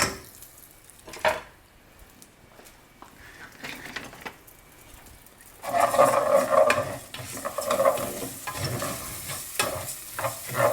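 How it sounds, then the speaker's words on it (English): Rice sizzles in hot oil in a pan as it is stirred for a Mexican carne con chile meal, with scraping and clattering stirs. The frying grows loud and close about halfway through, after quieter kitchen handling. "now I'm going to add some oil to the pan for the rice. I'm going to add the rice in."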